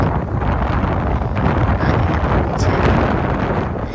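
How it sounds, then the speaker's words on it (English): Strong, steady wind off a lake at an exposed campground point roars across the microphone in constant broadband buffeting, loud and close, with no voices. "No real protection from the wind coming off the water here."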